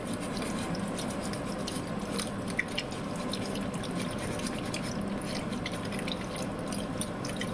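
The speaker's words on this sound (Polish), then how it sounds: "Delikatnie puszczam taką letnią wodę, nieciepłą, żeby tym jajkom nie zaszkodzić i szorujemy." Lukewarm water runs steadily from a kitchen tap while eggs are scrubbed with an old sponge, giving a continuous hiss with scattered small drips and splashes close by.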